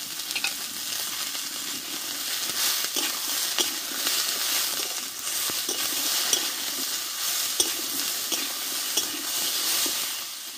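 Cauliflower, potatoes, onions and a large tomato sautéing in a pan, a dense, even sizzle running throughout with occasional soft knocks and scrapes of stirring.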